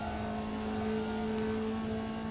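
A Formula Vee race car in the iRacing sim, driven on a qualifying lap at Tsukuba Circuit, gives a steady high-revving engine drone that holds loud and constant with no talking.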